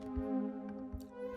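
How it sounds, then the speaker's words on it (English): A mysterious sustained synth chord from the Polymax plugin's Huge Mana preset in a disco-flavoured sub-bass dance track, steady layered harmonics holding throughout with faint soft thumps underneath. "I've used like a really mysterious chord that I created with Polymax from UAT"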